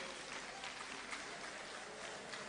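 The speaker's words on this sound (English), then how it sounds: "A round of applause for him." Crowd applause for Reverend Sam Kranchiankra at a political rally, a continuous, even wash of clapping from a large audience lasting a few seconds with no pauses.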